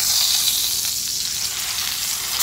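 Deer backstrap sizzles steadily in a hot pan as it is flipped, a close, dense frying hiss that holds constant throughout with no voices.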